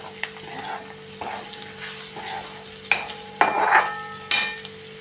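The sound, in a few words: sautéing bitter gourd with goda masala in a pan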